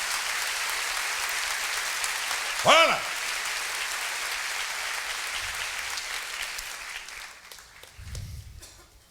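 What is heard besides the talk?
church congregation applauding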